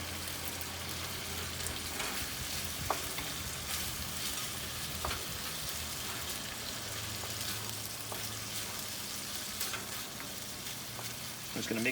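Chicken and frozen vegetables fry on a Weber Spirit II E320 side burner for fried rice, a steady loud sizzle with faint stirring clicks throughout and no talk.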